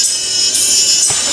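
High-pitched treble test tone from the tweeter channel of a Pro Euro Tech 2-3 way crossover, a steady bright hiss-like band sustained for over a second with a slight shift midway, loud and alone with no talk.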